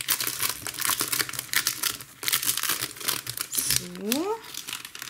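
A package of glossy black foil paper crinkling and rustling as it is handled close up, in repeated bursts, with someone speaking briefly.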